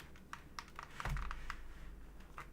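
Keys clack on a computer keyboard during a coding session, a quiet, irregular run of light taps with a low bump midway, heard close and alone.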